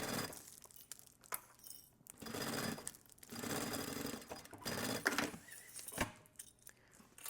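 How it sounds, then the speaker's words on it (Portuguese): A sewing machine stitching fabric for a thermal bottle holder, running in loud bursts of rapid needle chatter separated by brief pauses and handling sounds, no talk. "E continua costurando até o final."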